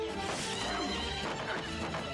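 A horse neighs loudly in a film scene, a shrill whinny with a crashing impact mixed into the dense soundtrack over about two seconds.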